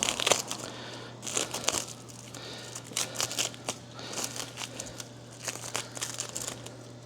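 Plastic packaging crinkles and crumples in irregular bursts as the wrapping comes off the 1450 plug of a RippleOn EV charger, heard up close and alone over a faint steady hum.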